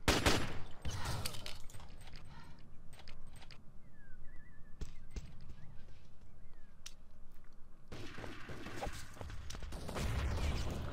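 Bursts of gunfire and grenade blasts in the multiplayer shooter Urban Terror during a competitive match, dense rattling volleys at the start and again near the end with scattered single shots between.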